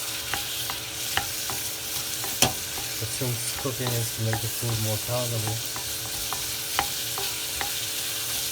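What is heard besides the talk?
onions deep frying in a pan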